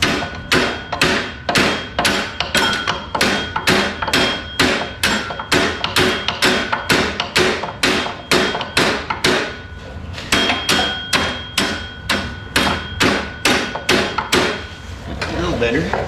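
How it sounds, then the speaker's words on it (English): A hammer taps the spring of a Yerf Dog go-kart forward. Around thirty sharp metallic blows land in a fast, steady rhythm, close and loud, with one brief pause partway through. "I wonder if I can just tap that spring forward."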